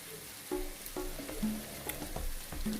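Pumpkin and egg stir-fry in a hot pan: a soft, continuous sizzle broken by several sharp scrapes and clanks of a spatula stirring at irregular intervals, fairly quiet and close, with no talking.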